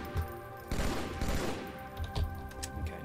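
Gunfire in Halo 2 on Legendary: a dense game firefight with bursts of rapid shots over a steady background of game music and effects, heaviest around the middle and trailing into scattered shots.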